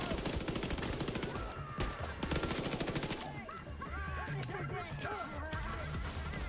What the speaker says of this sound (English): Oh, this is a good gun. MP5.